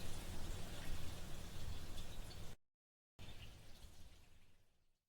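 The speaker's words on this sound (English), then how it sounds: "rain drumming on the umbrella protecting me from further revelations" Rain patters steadily on an umbrella as a dense, hissing wash of drops, broken by a short silent gap and then resuming before gradually fading out.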